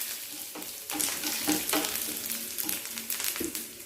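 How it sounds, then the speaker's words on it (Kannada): Urad dal, curry leaves and dried chillies frying in oil make a close, crackling sizzle, broken by repeated scraping stirs and small pops, for moringa leaves sukka. "ಸ್ವಲ್ಪ ಕರಿಬೇವು ಸ್ವಲ್ಪ ಒಣಮೆಣಸು ಬೇಕಾದ್ರೆ ಹಸಿಮೆಣಸು ಹಾಕ್ಕೊಳ್ಬೋದು ಒಣಮೆಣಸು ಇದ್ದೀನಿ ನಾನು ಸ್ವಲ್ಪ ಫ್ರೈ ಮಾಡ್ಕೊಂಡು"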